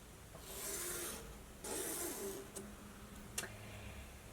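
A marker or chalk dragged across a fabric pocket to draw straight guide lines, heard as soft, steady rubbing strokes in a few bursts close by, with no one speaking.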